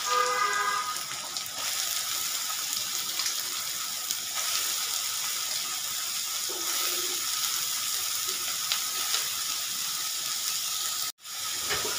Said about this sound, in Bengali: এটাকে দিয়ে দিচ্ছি সরু সরু করে কেটে রাখা লাউ।